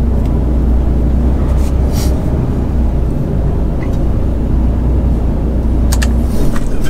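A truck drives along the road toward Mannheim with a steady, loud low engine rumble and road noise filling the whole stretch, with brief higher hisses near the end.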